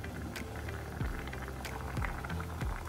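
Kerala kadala curry bubbles in a pot, a soft, steady simmer of small pops and plops heard up close and fairly quiet, with no talking.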